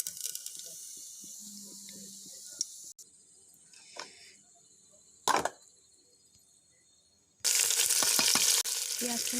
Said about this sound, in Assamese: তেলখিনি গৰম হ'বলৈ দিম এতিয়া। ইয়াতে মই এতিয়া 2 খিলা তেজপাত দি দিম।